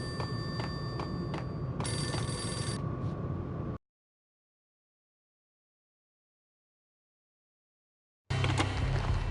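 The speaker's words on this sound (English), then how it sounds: "The payphone started to ring." Payphone ringing in the video game Max Payne, a bright electronic telephone ring repeating in bursts before cutting to silence, then resuming loudly after a gap.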